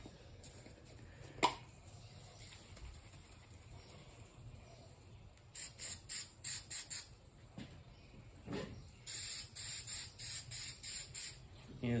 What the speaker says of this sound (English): we're going to spray the backside of the stencil lightly so it sticks down to the surface